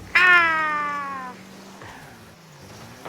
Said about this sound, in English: Like slammed the door on a Tonkinese cat.